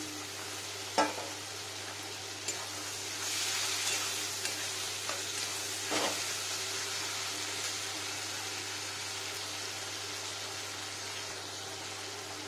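Okra sizzles and fries steadily in a pan for a vegetarian Bengali dish with tomato puree, a faint continuous hiss broken by a few sharp clicks and stirring knocks.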